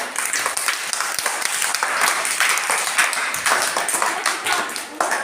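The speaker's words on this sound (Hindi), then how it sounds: "एक बार ताली बजा दो गुड़िया के लिए" Children at a school event in Takhalsar clap together for a girl, a loud, brisk burst of uneven hand claps from a nearby group that carries on steadily throughout.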